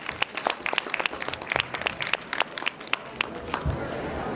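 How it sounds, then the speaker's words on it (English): Audience applause for women stepping down after sharing on stage at a talk about unhealthy relationships, a dense run of claps filling the room steadily before thinning toward the end. "Give her a round of applause,"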